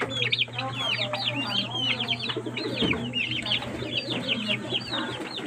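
Many Rhode Island chickens and turkeys cluck and squawk together in a busy barnyard chorus over a steady low hum, with no voices.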